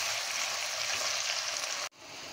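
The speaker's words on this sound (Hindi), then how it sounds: "प्याज को मीडियम फ्लेम पर हमने फ्राई किया है" Roughly chopped onion frying in oil on a medium flame gives a dense, steady sizzle close up, cutting off abruptly near the end before faintly resuming.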